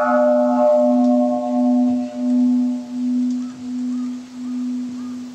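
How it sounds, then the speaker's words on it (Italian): A bell from Otsu, Japan, rings out with a single sustained, gently pulsing hum whose bright upper overtones fade within a second while the deep steady tone lingers through the whole span, heard alone. "Questa è una campana di Otsu."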